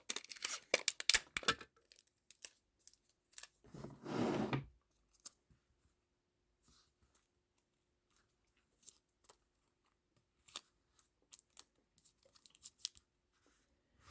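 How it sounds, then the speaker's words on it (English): Sellotape is torn off and pressed onto glued broken ceramic, giving sharp close rips and crinkles, one longer tearing stretch, then sparse small taps and rustles amid quiet. "just applying some new tape to it"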